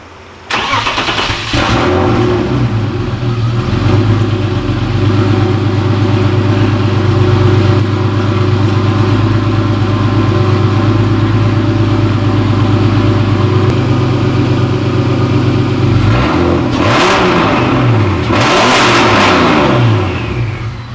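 A BMW M50 engine, just fitted with a swapped intake manifold, cranks and fires. It then holds a loud, steady idle close by, with two sharp revs near the end.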